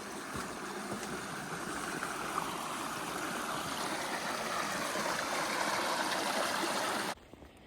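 Stream water flowing over rocks at a trail crossing on the Appalachian Trail, a steady close rushing and splashing that continues evenly before cutting off abruptly near the end.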